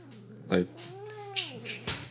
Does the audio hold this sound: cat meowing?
yes